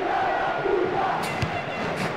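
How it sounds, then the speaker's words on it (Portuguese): Bahia football supporters chanting in a stadium during the return leg of a Copinha youth cup match against Vasco, a dense, steady crowd roar filling the space with a few brief louder bursts. "Começou a torcida do Bahia."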